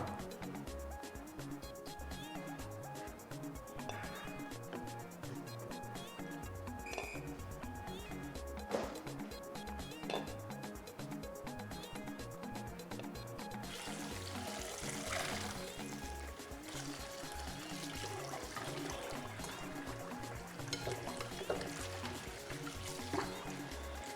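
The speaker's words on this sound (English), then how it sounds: "The next thing I'm going to do now is wash the rice." Rice being washed in water for Ofada jollof, with steady trickling, pouring and swishing of water in a bowl, fairly quiet and continuous throughout.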